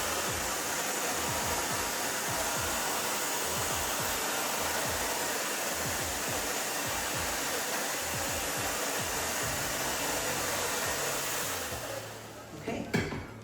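Steady, loud whoosh of a hair dryer blow-drying hair forward runs nearly unbroken for about twelve seconds, then cuts off with a few faint handling noises at the end.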